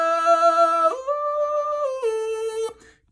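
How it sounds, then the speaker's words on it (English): A sung melody shaped through an ElectroSpit tubeless mobile talk box, with buzzy, richly harmonic synth tones forming vowels, holding long notes that step between pitches before cutting off. "this is the ElectroSpit Tubeless Mobile Talk Box, and it sounds like this"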